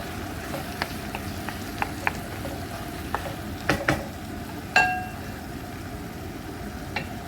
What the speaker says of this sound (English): I've mixed it properly and now it's cooking nicely